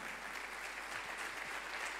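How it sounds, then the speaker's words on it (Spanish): A church congregation applauds together in a steady, dense wash of clapping heard from inside the room, continuing without pause for a couple of seconds. "Dale un fuerte aplauso al Señor."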